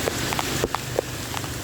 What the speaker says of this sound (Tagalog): Ang inang lakas ng ulan.